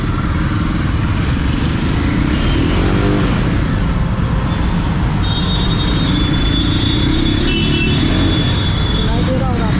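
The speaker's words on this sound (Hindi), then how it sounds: "बस एक्सेलरेट करेंगे बाइक को" Motorcycle engine in a tunnel in Varanasi traffic, a loud, echoing, continuous rumble as the bike accelerates, with a voice talking over it throughout.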